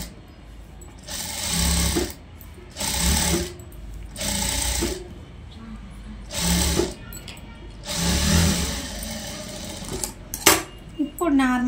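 A sewing machine stitches a blouse sleeve in a series of loud, close bursts of rapid mechanical whirring, each lasting about a second and separated by short pauses.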